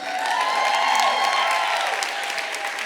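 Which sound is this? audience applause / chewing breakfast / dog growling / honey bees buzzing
audience applause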